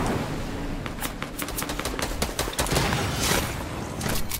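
Gunfire rings out in a Fortnite match, a rapid scatter of sharp cracks and bursts over a busy game-noise background, with no voices.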